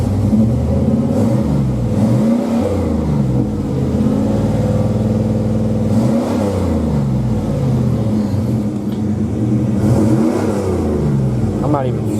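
A car engine, freshly running after a transmission install, revs up and down repeatedly, with the pitch rising and falling in a close, loud, continuous roar.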